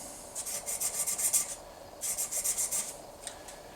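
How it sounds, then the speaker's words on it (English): Two bursts of rhythmic rubbing strokes as fine 1200 grit sandpaper is worked over a coin ring, a soft rasping back-and-forth, close and moderately quiet with a short pause between sets. "I'm going to touch this with just some number 1200 grit sandpaper, just to kind of highlight Illinois on the ring."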